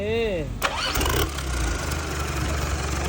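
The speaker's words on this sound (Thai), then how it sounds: "อ่าตัวนี้ Hino WO4C Turbo นะครับ 145 แรงครับเดี๋ยวติดเครื่องให้ชมครับ" A Hino W04C turbo diesel engine rated at 145 hp cranks and fires up, catching after a brief starter whine and settling into a loud, steady idle close by, with a voice heard at the start.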